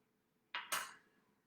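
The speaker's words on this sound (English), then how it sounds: "this one kind of has a bad part at the bottom, so I'm just going to cut that" A kitchen knife slicing the spoiled bottom end off an eggplant, two quick close knocks of the blade hitting a cutting board, the second louder and fading briefly, in an otherwise quiet kitchen.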